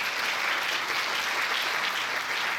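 Steady, dense applause from a large audience fills a conference hall at a global real estate leadership summit in Kaohsiung, Taiwan, continuous and even throughout without any talk.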